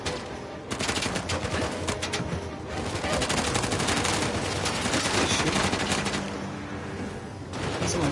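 Sustained gunfire in Uncharted: The Lost Legacy, rapid automatic bursts and shots coming from behind, loud and dense throughout with no talking.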